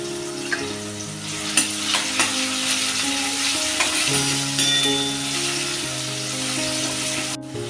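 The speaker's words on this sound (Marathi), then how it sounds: "बघा अर्धा चमचा हिंग टाकते मी" Half a spoon of asafoetida drops into rasam in a hot pan, and a constant sizzle with occasional stirring knocks plays beneath steady background music.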